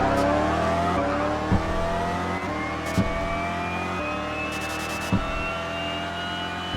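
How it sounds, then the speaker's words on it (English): AI race cars in the TOCA Race Driver 2 video game rev steadily with rising engine pitch, a continuous loud engine drone with a few brief gear-shift thumps and faint tire squeal, no talking. "I can hear the AI cars quite easily, but not my own car, unfortunately."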